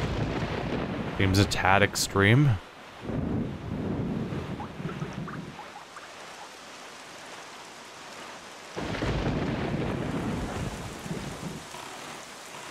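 Thunder from a lightning storm at sea in Zelda: The Wind Waker HD, heavy rumbling bursts over rain and surf, with a clear game sound effect near the start and someone briefly talking over it.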